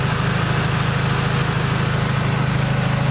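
A Chevy Cruze engine running steadily at idle, close and loud, a constant low throbbing hum with no changes in pace and no voices.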